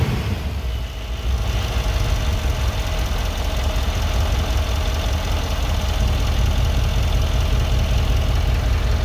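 A 2015 Mercedes E63 4matic with 203k km and two fresh spark plugs idles steadily, a loud, close, even engine rumble that runs throughout with no speech.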